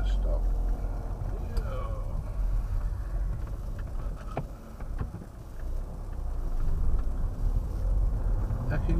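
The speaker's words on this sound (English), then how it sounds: "Ooh, I like to hear my engine." A car engine hums steadily at close range with low rumbling throughout, some road and cabin noise, and a person speaking over it.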